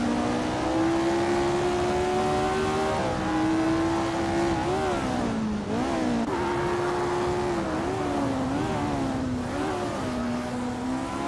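1960s Formula 1 race cars, including a Ferrari 1512, race on the tight, narrow Bremgarten track. A loud, sustained engine whine rises and dips as the cars shift and corner, with no talk.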